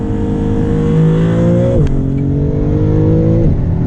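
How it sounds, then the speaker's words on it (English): A 2024 Maserati MC20 in Corsa mode accelerates hard in second gear, its engine droning loudly and rising in pitch, with two quick upshifts marked by brief dips before the revs climb again. "You guys want to do one more acceleration since we're in Corsa mode anyway?"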